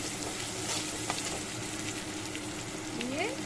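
Potatoes with salt and turmeric fry in a pan while being stirred, giving a soft, continuous sizzle with light scraping and a faint chirpy tone near the end.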